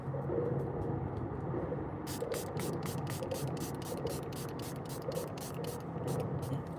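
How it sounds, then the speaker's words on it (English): Makeup setting spray hisses out in a rapid series of short, evenly spaced spritzes, fairly close, over a low background hum and faint room noise. "And then last but not least, my setting spray."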